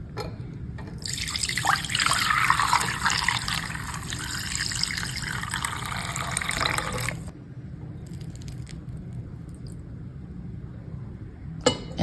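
Shrimp stock pours through a strainer into a bowl, catching the shells. A close, steady splashing trickle runs for several seconds, then fades to faint dribbles and drips.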